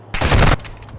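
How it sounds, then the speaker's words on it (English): Burst of gunfire in a video game strikes the player from behind, a sharp, loud rattle of rapid shots lasting under half a second, then fading into a dull tail. "Ah, I got fucking shot in the back"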